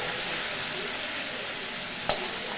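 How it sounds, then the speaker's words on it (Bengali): Shrimp fries in hot oil with an even, close sizzle, and a single clink of a utensil near the end. "এটাকে আমি একটু ভেজে নেব"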